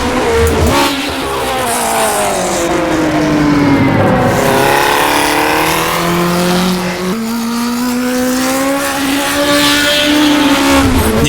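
A 1960s Formula One car in the rFactor 2 racing game screams loud and close, its engine revving up and down through gear changes, with brief tire squeal and no talking.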